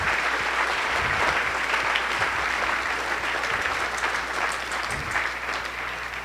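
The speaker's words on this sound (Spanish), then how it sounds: "denle un aplauso a nuestro Rey" Sustained audience applause fills a church service, steady and loud throughout with dense clapping from a large congregation and no talking over it.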